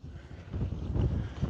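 Wind gusts blowing by a lake in Ireland, heard as a rough, low rumble of air buffeting the microphone that swells and surges unevenly, with no talking.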